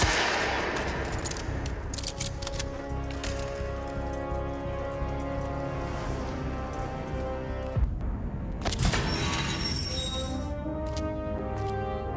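Gunfire in the Hitman: World of Assassination game, a dense, continuous rattle of rapid shots layered over a loud, busy soundtrack, with a brief drop near the end before the clatter resumes.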